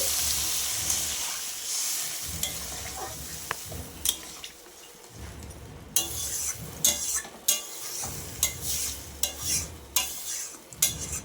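Spiced jackfruit curry with prawns frying in a pan as water is poured in, a steaming hiss and sizzle followed by scattered close utensil clinks and stirring scrapes, no voices.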